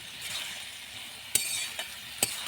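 Food being stirred and cooked down in a pan for a home-cooked lunch: a soft, steady sizzle with three sharp clinks of the utensil against the pan, close by and with no talking.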